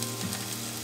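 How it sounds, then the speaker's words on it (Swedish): Shrimp sizzle in a pan with chili, garlic and lemon, a brief, steady, close frying crackle with no talking. "Och räkorna steker jag i chili,"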